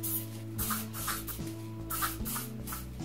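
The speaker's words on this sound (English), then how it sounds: "applying small amounts of hairspray just all over the ends of the hair" Small puffs of hairspray are applied over the ends of the hair before hair chalk goes on, a rapid series of short, soft aerosol bursts close by over a steady background tone.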